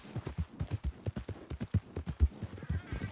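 A horse walks in Red Dead Redemption 2, giving a close, even clip-clop of hooves with a dozen or so distinct strikes in quick rhythm.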